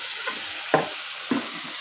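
Vegetables stir-fried in a pan for a fish-head curry with winter vegetables: a steady sizzle with two or three short scraping stirs of a spatula, close and moderately loud, with no talking.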